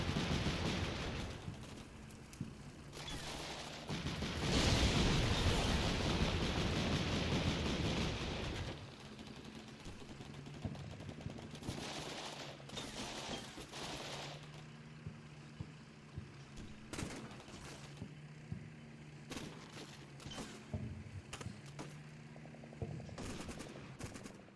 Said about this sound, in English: There's a lot of defensive fire from the Russians.